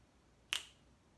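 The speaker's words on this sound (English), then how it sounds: "Can you snap for me?" A single finger snap cracks sharply once, close and crisp, in an otherwise quiet room.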